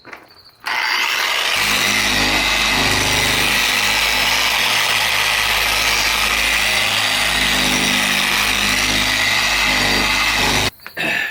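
A Harbor Freight polisher buffing a faded car hood, a steady loud motor whir and pad friction running continuously, starting after a brief quiet moment and cutting out near the end.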